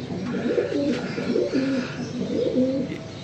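High flyer pigeons coo in a series of soft, rolling phrases, close and clear, over a low background hum.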